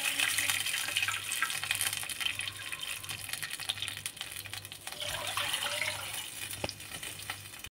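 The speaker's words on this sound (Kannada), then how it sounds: "2 ಕಪ್ಪು ನೀರು ತಗೊಳ್ತೇನೆ ಇಲ್ಲಿ." Two cups of water pour into a pan for a rava vada recipe, a continuous soft gushing splash that fills the clip with a faint rhythmic hum beneath it.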